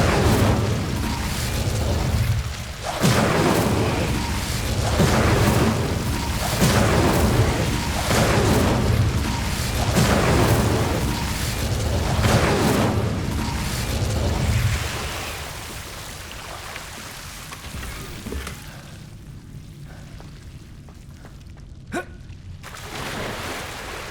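An Incendio fire spell cast in Hogwarts Legacy: a series of loud, roaring bursts of flame repeating every second or two, then fading to a quieter hiss with a faint pop near the end.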